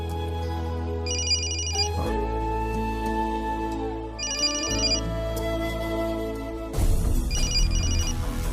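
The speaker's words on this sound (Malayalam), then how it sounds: "ഫോൺ എടുക്ക്" A telephone rings with a repeating electronic ringtone, loud and close, its bursts of chiming tones recurring in a steady cycle over a sustained musical background, with no voices.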